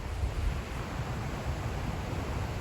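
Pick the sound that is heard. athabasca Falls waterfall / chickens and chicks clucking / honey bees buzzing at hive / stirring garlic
athabasca Falls waterfall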